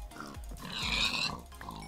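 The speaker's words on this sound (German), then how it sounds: "Schweinchen stirbt" Pig grunts and a death squeal from a pig in Minecraft, short game sound effects with a brief bright squeal in the middle, clear and close with no speech.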